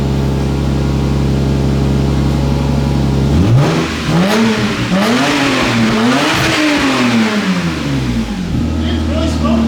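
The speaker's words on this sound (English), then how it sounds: "That is a raspy Tanabe, is what that is. Yeah, that is an odd sounding JZ." A Lexus GS300 with a 2JZ engine, a raspy Tanabe exhaust and a large exhaust leak idles on a cold start, then revs hard through several rising and falling pulls before it settles, loud and close.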